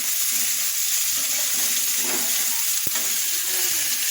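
Meat frying in oil with sour yogurt in a home kitchen makes a constant dense sizzle and crackle, close and loud throughout, with one sharp click near the end and no voices.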